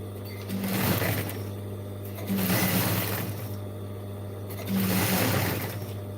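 A sewing machine stitches the lining fabric of a jeans bag in three bursts of steady whirring and clatter, separated by brief quieter pauses, close up with a constant low hum underneath.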